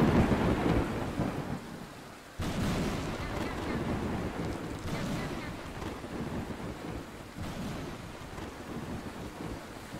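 Thunderstorm in the Roblox game The Island Story Mode: heavy continuous rain and rumbling thunder, with a sudden loud crack partway through and wind-like noise, dense and steady.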